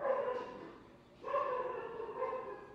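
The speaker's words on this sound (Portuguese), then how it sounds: "Vai os cachorros, gente." Dogs vocalizing nearby indoors, with two drawn-out, tonal whining barks separated by a brief pause, fairly clear and with no talking over them.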